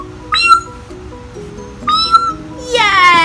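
A child's or adult's voice imitates a cat meowing, two short mewing calls followed by a longer rising meow, close and clear with faint background murmur.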